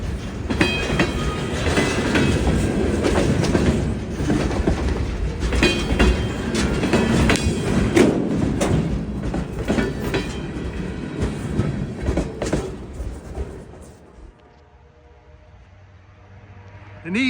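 A train rumbles past at Shearer's Road crossing in eastern Pennsylvania, loud and close, with rhythmic clicking wheels for about fourteen seconds before fading to quiet.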